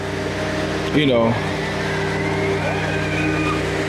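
Steady in-car road rumble and engine hum from a car driving toward the Great Smoky Mountains, continuous with a brief louder swell near the start.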